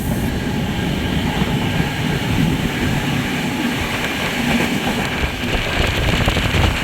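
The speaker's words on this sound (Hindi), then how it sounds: "ओखला पे हमारी क्रॉसिंग है तेलंगाना एक्सप्रेस से" An Intercity express train rumbles and clatters steadily on the rails near Okhla as it crosses the Telangana Express, a loud, close, continuous roar of wheels and carriages with no talk.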